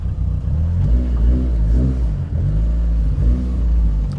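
Car on a test drive after an oil line repair, its engine rumbling steadily and swelling with a few mild revs as it accelerates, heard from close by with no talk.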